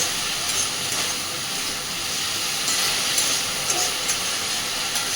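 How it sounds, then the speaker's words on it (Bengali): Vegetables fry for fried rice made from leftover rice, giving a steady, even hiss in the pan with faint crackle spikes near and alone. "সবজিগুলো আগে ভেজে নেব।"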